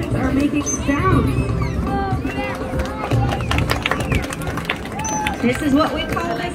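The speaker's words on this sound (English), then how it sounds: "The dolphins are making sounds" Dolphins at a Dolphin Academy show in Curaçao give off rising and falling whistle-like singing calls, repeated through the whole stretch beneath steady crowd chatter and children's voices.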